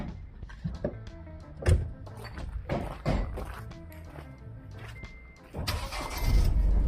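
A diesel car engine cranks and catches after a few thuds and clunks, its rumble swelling loud near the end, with handling noises and no clear speech.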